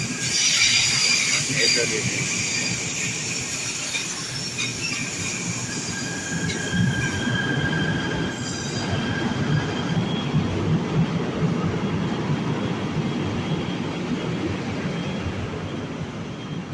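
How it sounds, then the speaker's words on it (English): A train rolls into Batu Caves station in Malaysia with a steady rumble and high squealing wheels, brakes hissing as it slows, loud and close throughout. "So a train has arrived."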